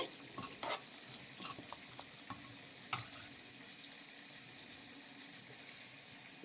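Peas curry cooked with chicken fat sautéing in a pot, a quiet steady sizzle with occasional scraping stirs and soft utensil knocks, faint and close with no talking.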